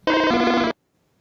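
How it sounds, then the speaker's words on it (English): Charmander's cry from a Pokémon game on the original Game Boy: a short, harsh, buzzy electronic creature cry lasting under a second, then abrupt silence. "this is why Charmander on the Game Boy sounds like this"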